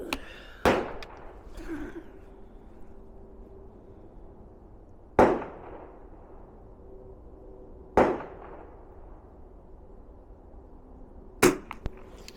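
22-410 firearm fired outdoors: four sharp, loud reports spaced several seconds apart, each with a brief ringing decay into quiet background.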